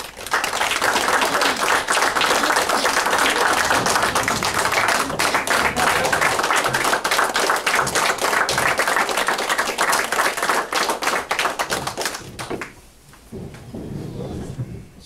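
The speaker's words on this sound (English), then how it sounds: "I would just offer up a big round of applause for them." A big round of applause at a June 2020 meeting, with dense, steady clapping from a room of people that keeps going for about twelve seconds before thinning out and fading.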